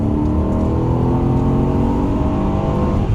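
A car driven out of a corner at full power gives a loud, steady engine drone close by, holding an even roar throughout.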